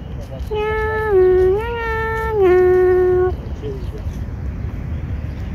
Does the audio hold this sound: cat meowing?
yes